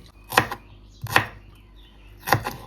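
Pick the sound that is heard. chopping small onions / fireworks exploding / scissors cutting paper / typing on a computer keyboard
chopping small onions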